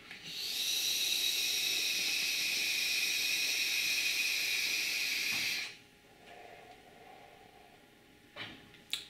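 Vapor drawn through a Joyetech eGo ONE Mega V2 e-cigarette with small coil heads: a loud, steady airy hiss lasting about five seconds, then it cuts off into quiet with a couple of faint clicks.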